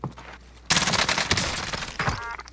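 Gunfire in Call of Duty Warzone, a sudden loud burst of rapid automatic shots that keeps rattling densely for a couple of seconds.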